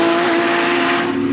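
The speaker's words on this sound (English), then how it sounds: "I'm really enjoying this red GT3 that's out in the track" A Porsche GT3 race car roars past close by on the Knockhill circuit, its engine a loud sustained whine with a strong steady pitch.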